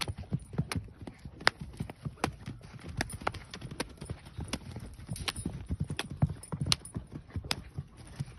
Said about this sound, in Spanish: Es un caballito que baila